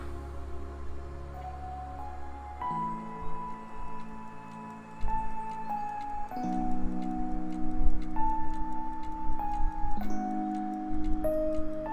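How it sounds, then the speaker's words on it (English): A clock ticks steadily in the video game Trails of Cold Steel, with regular, crisp ticks layered over soft, sustained tones of in-game music and no talking. "I hear like a clock."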